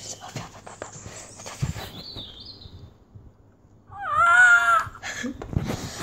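A pet cat gives a clear, drawn-out meow close to the microphone, following some rustling and quiet background sounds.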